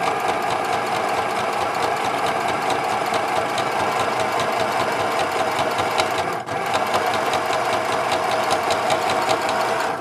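A sewing machine stitches a flat felled seam at a slow pace, a loud, steady mechanical whir with fast rhythmic knocking that runs unbroken apart from a brief dip midway.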